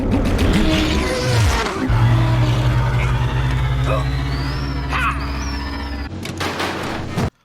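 Star Wars podracer engines from The Phantom Menace roar loud and continuous, with a deep droning hum, a sweeping whine overhead and a sharp cut-off near the end, under a speaking voice.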